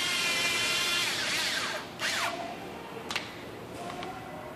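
A screw gun drives screws while a Rosen FiT system for a Nissan is assembled, whirring motor bursts rising and stopping in short spurts, up close, with a couple of light knocks.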